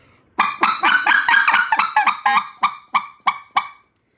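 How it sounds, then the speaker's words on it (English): A goose call is blown in a run of rapid double honks that slow into single notes, about a dozen loud, close, reedy calls in a row, alone without talk. "I think it just sounds like a little goose kind of getting excited and coming back down."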